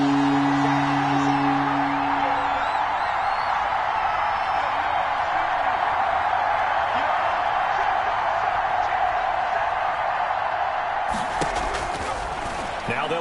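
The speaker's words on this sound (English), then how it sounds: "Crowd getting in it a bit already." A stadium crowd in an American football video game roars steadily under a commentator's play-by-play, with a burst of louder noise near the end.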